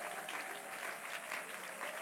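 A church congregation applauds God during a service, steady dense clapping filling the whole stretch without a break, even in loudness and fairly close, with no voices standing out above it.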